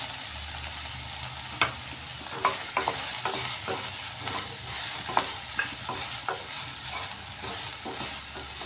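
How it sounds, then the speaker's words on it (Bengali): Soybean chunks coated in salt and turmeric fry in hot refined oil for a cauliflower and potato dish, with a constant sizzle punctuated by regular spatula knocks and scrapes, close and with no talking. "তেল গরম হয়ে গেছে, নুন হলুদ মাখিয়ে রাখা সয়াবিন দিয়ে দিচ্ছি।"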